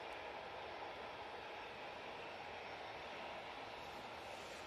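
An easyJet airliner departs Manchester Airport for Krakow. Its engines give a steady, unbroken broadband roar from a distance, heard alone throughout.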